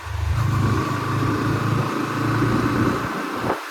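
A 2024 Bajaj NS160 motorcycle engine hums and pulses during a ride, a close, loud, steady mid-pitched drone with slight revving variations that cuts off abruptly near the end.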